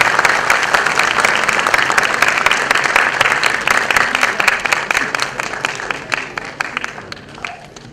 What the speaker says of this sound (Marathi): सर्व टाळ्या वाजवायच्या.